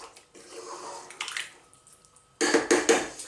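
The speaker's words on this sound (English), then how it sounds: "Now, I am going to add a touch more water to that" Water is poured from a container into a pot of carrot and coconut soup, a close splashing pour in uneven bursts with pauses between, ending in a louder gush.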